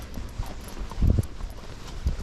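Hooves of a six-year-old Rocky Mountain gaited horse walking, giving a few soft, close clip-clop footfalls in an uneven rhythm over low outdoor background noise.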